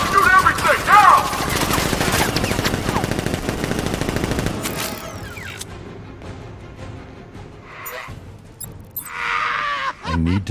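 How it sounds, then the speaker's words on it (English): Militia gunfire in Batman: Arkham Knight, loud dense bursts of automatic fire mixed with game voices and effects for about five seconds, then dropping to quieter scattered sounds with a few later shots and clatters. "Guard! Open fire! Shoot everything!"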